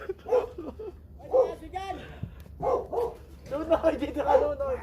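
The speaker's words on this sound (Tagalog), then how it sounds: "No, may doggy." A dog barks a few times at a moderate distance amid people talking and laughing outdoors at a house demolition site in Baler.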